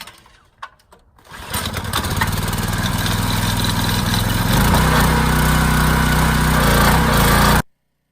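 A steady, loud machine roar from a pressure washer rinsing a Porsche 996 at a car wash, starting up after a second of quiet and running continuously close by until it cuts off abruptly.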